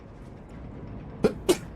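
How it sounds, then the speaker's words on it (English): A man sneezes twice in quick succession, two short, sharp bursts close to the microphone over a quiet background. "I'm gonna sneeze."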